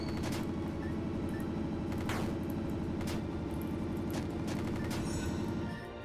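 Rapid, continuous machine gun fire from the pixel-art roguelike Dungreed on PC, a dense unbroken rattle of shots throughout, loud and close, with game effects layered on top and a brief drop at the end.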